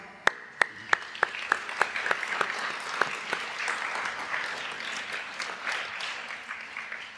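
An audience in a church breaks into applause, opening with several sharp, separate claps that quickly swell into a steady, sustained round of clapping from the congregation.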